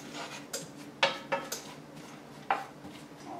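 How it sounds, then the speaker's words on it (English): Almonds stirred in melted butter in a pan, with a handful of sharp clinks of the utensil against the pan over a soft, low sizzle. "you just want to stir these around and make sure they get coated well in the butter"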